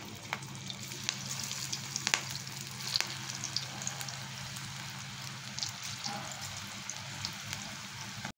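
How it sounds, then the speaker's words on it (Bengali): Potato peel pakoras fry in hot oil, giving a quiet, steady sizzle with scattered small pops and crackles throughout. "একই রকমভাবে বাকিগুলোকেও আমি ভেজে নিচ্ছি।"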